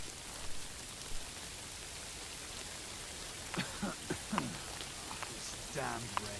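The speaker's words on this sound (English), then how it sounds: "This damned rain." Steady rain falling in the medieval game Kingdom Come: Deliverance II, a soft, even hiss throughout, with brief voices talking over it midway.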